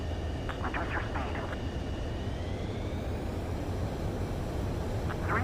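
Fixed-wing aircraft approaching a runway to land in Ace Combat 7, a steady loud engine roar with a rising whine running throughout, and radio voices speaking over it.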